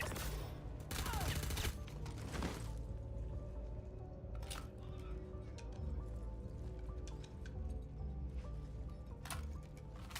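Gunfire in a video game crackles as a burst of shots near the start, with more scattered shots later, over a dense game soundscape; people talk nearby.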